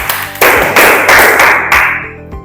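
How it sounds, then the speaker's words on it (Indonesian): A classroom group claps for group 1, several loud, sharp bursts of close applause in quick succession that taper off within a couple of seconds. "Silakan kita beri tepuk tangan untuk kelompok 1."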